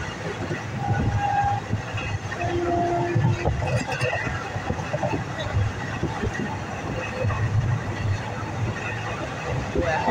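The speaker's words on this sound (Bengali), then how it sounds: "দিয়ে ট্রেনের টাইম হয়ে যাওয়ার পর ট্রেন ঢুকে যায়। তো এই ট্রেনটার নাম হচ্ছে তিস্তা তোস্তা এক্সপ্রেস।" The Teesta Torsa Express pulls into a railway station with a continuous heavy rumble and rolling clatter of wheels, loud and near, with platform voices mixed in.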